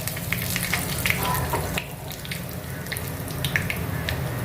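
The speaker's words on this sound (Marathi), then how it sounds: "फोडणी अशी छान तरतरली" A continuous sizzle and crackle of cumin and curry leaves tempering in hot oil, with a low rumbling hum underneath and scattered sharp pops.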